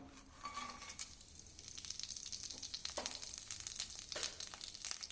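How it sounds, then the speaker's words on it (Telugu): Whole spices frying in a pan: three cardamom pods, two pieces of cinnamon, cashews and two bay leaves, giving a soft, steady oil sizzle with light crackles and occasional stirring scrapes, close and fairly quiet. "మూడు యాలకులు రెండు ముక్కలు దాల్చిన చెక్క జీడిపప్పు మీ ఇష్టాన్ని బట్టి వేసుకోండి బిర్యానీ ఆకు రెండు ఆకులు తీసుకున్నాను ఇవన్నిటిని కూడా దోరగా వేయించుకుందాం"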